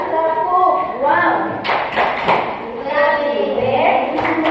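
A class of young children claps together on a counted cue during a primary school lesson, a few sharp bursts of hand claps amid lively chatter and a teacher's voice.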